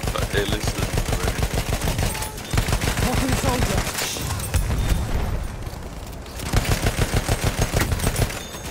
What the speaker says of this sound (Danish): Jeg blev bare skudt fra alle sider.